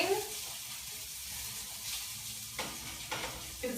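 Ginger and garlic frying in a pan ahead of bok choy and other greens, giving a steady soft sizzle with brief stirring scrapes near the end and no talk.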